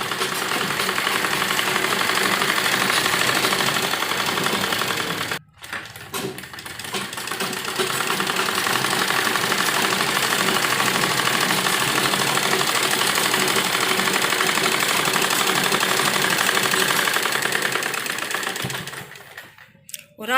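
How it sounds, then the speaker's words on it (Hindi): A sewing machine runs in a fast, continuous mechanical rattle while stitching the main fabric of an A-line palazzo with lining, pausing briefly once and again near the end. "तो यहाँ पर हम इस तरह से करते हुए सिलाई लगाएंगे"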